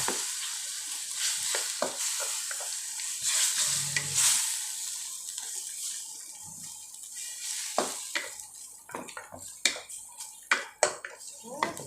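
Squid and salted egg are stir-fried in a pan, giving a continuous hiss of sizzling oil. Close scraping and clinking of a utensil against the pan sharpen and quicken toward the end, with a faint voice in the background early on.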